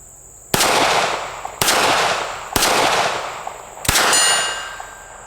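Four sharp gunshots from a Smith and Wesson Bodyguard 380 micro pistol, fired one at a time about a second apart, each loud, close and followed by a short ringing decay, with no talking.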